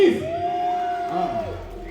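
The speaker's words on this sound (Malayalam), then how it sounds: "കുറച്ചുകൂടെ ഒരു വലിയ കൈയടി പ്ലീസ്" A crowd cheers and whoops at the inauguration of a myG Epic showroom with actor Asif Ali on stage; a sustained loud roar with one voice holding a long rising yell above it.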